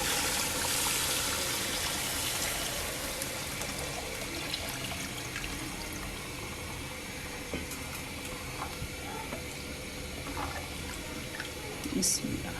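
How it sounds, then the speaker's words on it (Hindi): Water is poured into a cooking pot of beef paye, a soft continuous splashing trickle heard close under light background noise. "अब हम इसमें करेंगे पानी ऐड, जितनी शोरबा या ग्रेवी हमें चाहिए।"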